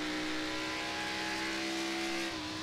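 A race car engine in the iRacing sim at Darlington holds a loud, steady, high-pitched drone close by throughout, dipping slightly near the end.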